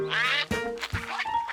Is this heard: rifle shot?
no